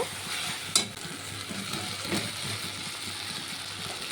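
Fried potatoes added to a cooked-down spice paste in hot oil for a potato and fish curry, a close steady sizzle broken by a sharp clatter early on and a softer stirring scrape later.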